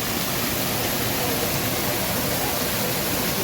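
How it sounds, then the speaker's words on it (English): The indoor waterfall at Gaylord Opryland in Nashville gives off a steady, broad rushing hiss of falling water, constant and close with no pauses, filling the space evenly. "There's the waterfall right there."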